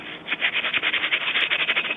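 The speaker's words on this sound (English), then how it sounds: "give it a little rub. Up and down, up and down." P150 sandpaper rubbed quickly up and down on a Peugeot 206 rear axle part, a close, even, rhythmic rasping with about a dozen back-and-forth strokes and nothing else heard.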